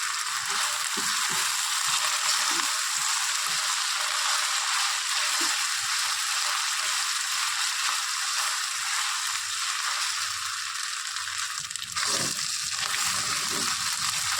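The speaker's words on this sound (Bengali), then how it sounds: "রসুনটাকে হালকা ভাজা ভাজা করে নেব যাতে কাঁচা গন্ধটা চলে যায়" Garlic fries in oil in a pan with a constant crackling sizzle, close and steady, broken by a few soft stirring knocks and scrapes.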